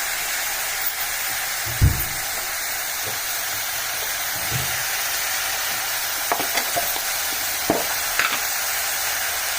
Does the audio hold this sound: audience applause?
no